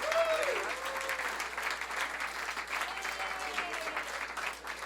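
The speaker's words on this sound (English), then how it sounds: "I want you guys to start clapping right now." Applause from a comedy club audience in Hermosa Beach, sustained clapping that holds steady for several seconds, fairly close, with a few whistles or shouts rising over it.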